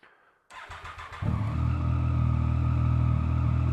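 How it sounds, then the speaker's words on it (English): A motorcycle being checked for a battery fault cranks briefly with a few rapid starter pulses, then catches and settles into a steady, loud, close idle rumble with no talking. "I'll fire the bike up"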